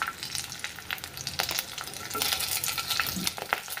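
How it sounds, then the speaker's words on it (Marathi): Red chillies fry in a pan, giving a bright, close, continuous sizzle. Stirring makes irregular scraping clicks and spatters throughout, with no talk. "मिरच्या फ्राय करून घेऊ।"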